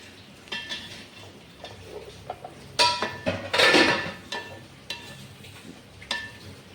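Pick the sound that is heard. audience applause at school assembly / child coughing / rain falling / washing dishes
washing dishes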